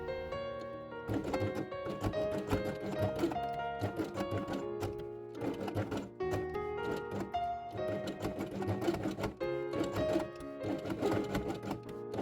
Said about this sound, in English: and sew it along the edge.